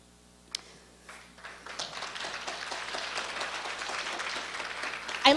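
A conference audience claps after a closing-session remark, starting with a few isolated claps and swelling into steady moderate applause that holds to the end.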